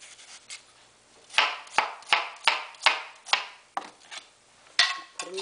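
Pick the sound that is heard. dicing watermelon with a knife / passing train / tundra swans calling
dicing watermelon with a knife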